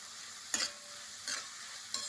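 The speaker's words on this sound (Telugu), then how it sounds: "ఇప్పుడు ఆయిల్లో ఈ ఆనియన్స్ని బాగా ఫ్రై చేసుకోవాలండి." Onions frying slowly in oil over a low flame, a quiet steady sizzle broken by three short bursts of stirring scrapes, with no one talking.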